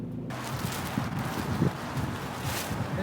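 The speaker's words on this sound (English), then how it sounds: "It's a little bit windy out today" Wind blows outdoors, buffeting the microphone with a steady, rough broadband rumble and hiss, with faint rustling and small thumps underneath.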